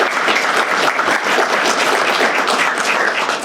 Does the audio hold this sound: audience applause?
yes